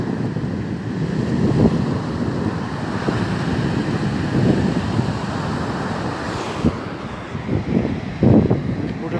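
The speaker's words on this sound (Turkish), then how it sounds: "Burada biraz duruldu rüzgar." Strong wind by the sea at Karamürsel buffets the microphone in a continuous roar, with a few louder gusts and surf-like rumble underneath.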